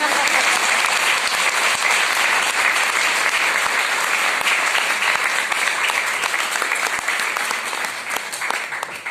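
A crowd applauds at a budget discussion event with women entrepreneurs, loud sustained clapping from many hands with a few sharper claps standing out, continuing for about nine seconds before thinning near the end.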